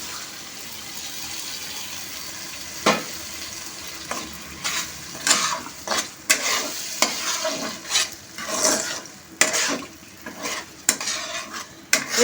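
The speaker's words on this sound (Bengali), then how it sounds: "এবার আমি সিমের দানাগুলো দিয়ে দেবো।" A spoon stirs bean seeds into a pan of frying dried-fish dal. Steady sizzling runs throughout, with scattered scrapes and clinks of the spoon against the pan growing busier toward the end, close up and with no voices.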